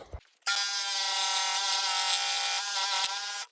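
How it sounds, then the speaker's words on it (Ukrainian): A saw, likely a power saw, runs steadily through a 40 mm thick wooden blank. After a brief thump it starts at about half a second and holds an unbroken, loud, bright whine to the end, with no talking. "В общем, ставлю і пиляємо."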